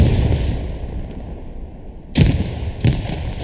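Two loud, booming shotgun blasts in the WWII video game Hell Let Loose, close and about half a second apart, following a stretch of dull rumbling combat ambience.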